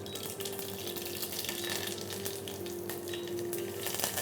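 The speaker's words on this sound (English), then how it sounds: "Followed by we'll add some curry leaves." Mustard seeds and curry leaves sizzling in hot oil, a steady close crackle with faint pops and light clinks of the pan, continuous throughout with no talk.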